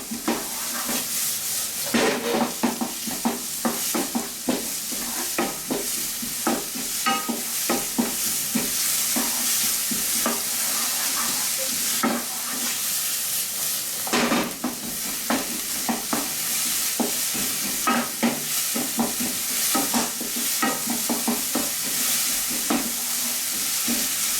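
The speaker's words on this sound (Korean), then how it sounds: "이제는 불을 이제 좀 세게 키신 다음에 이렇게 볶아주시면 됩니다" Vegetables and Cheongyang chili being stir-fried over high heat for spicy mapo tofu, a steady close sizzle with constant scraping and tossing clicks throughout, no voices.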